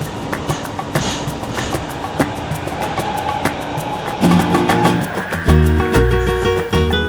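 Steady rumble and rattling of a train at KL Sentral station in Kuala Lumpur, with metallic clicks and clanks, growing heavier and louder partway through, with no voices.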